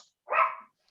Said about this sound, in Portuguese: meu cachorro está aqui latindo